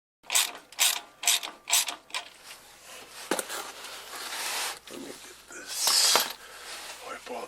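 Socket ratchet on a 17 mm brake line fitting of a Coyote-swapped Foxbody Mustang fitted with stainless brake hoses, a run of quick close clicking bursts followed by metallic rattles and handling noise.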